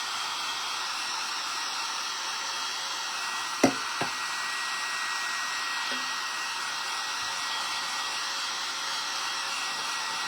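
Hair dryer blowing steadily over a craft project, a constant airy whoosh throughout with a couple of brief knocks partway through, no talking.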